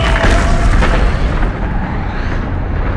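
A loud, close explosion sound effect, a deep rumbling boom that fills the whole stretch and slowly fades without a sharp end.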